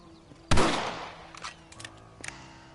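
A single loud rifle shot rings out in a Red Dead Redemption game scene, a sharp near blast with a decaying tail, followed by a few fainter clicks and knocks.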